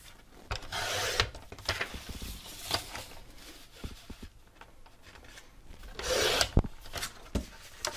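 Blade or paper trimmer strokes rasp through a sheet of 12x12 patterned paper being cut down to a square, in two longer scraping passes with scattered taps and rustles between, close and moderately quiet.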